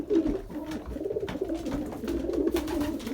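Young pigeons around 18 days old, fluffed up in near-freezing weather, give soft continuous low cooing and murmuring close by, with faint rustling and no talking.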